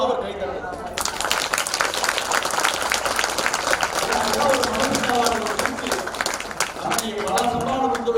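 An audience at a temple wedding ceremony for Sri Kallazhagar Perumal claps steadily for several seconds, a dense, lively patter of many hands filling the hall, with a voice speaking through it.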